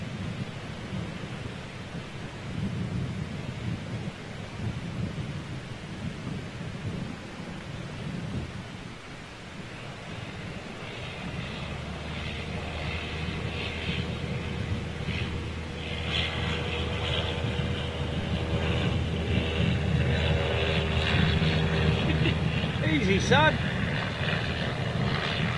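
Antonov An-225 Mriya, the giant six-engined cargo jet, takes off at Glasgow Prestwick Airport with a deep, broad engine roar that builds and grows louder toward the end, heard at a distance alongside people talking.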